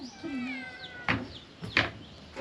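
A cat meows several times nearby in a rural Thai house, the drawn-out calls followed by two sharp knocks or bumps, with no one speaking.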